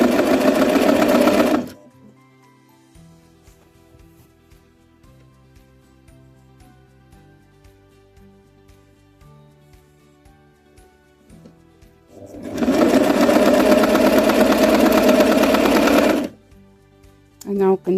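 A sewing machine stitches a folded hem on a full-skirted dress in two loud, close, steady whirring bursts, one short and one about four seconds long, with quiet room sound between them.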